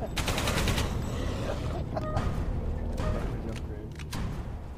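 Rifle fire in the video game Alien Breed: Impact, a rapid string of loud close shots at the start followed by continued battle noise with scattered impacts and thuds.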